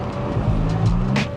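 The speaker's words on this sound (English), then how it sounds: "We're waiting the arrival of the Porsche Turbo." A Porsche Turbo pulls up on a quiet Sunday morning before a cars and coffee meet, its low engine rumble steady and fairly close throughout the short moment, with a brief hiss of tyre or wind noise near the end.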